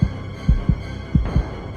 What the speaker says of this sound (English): she heard her heart pounding hard in the darkness